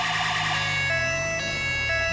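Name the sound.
police car siren in GTA V video game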